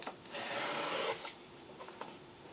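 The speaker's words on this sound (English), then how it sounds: "take a straight edge, pop it on, and trim 1/8 of an inch with a craft knife" A craft knife drags through carbon felt along a straight edge, making one soft, raspy cutting stroke followed by a few faint scratchy touches.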